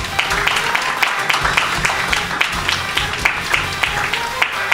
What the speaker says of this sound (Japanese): 盛大な拍手でお迎えください。